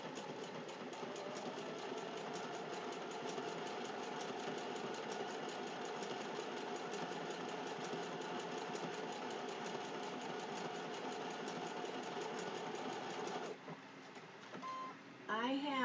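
A sewing machine stitches a Halloween placemat applique at moderate speed, its fast even motor whir and needle chatter running steadily before stopping near the end, followed by faint handling sounds.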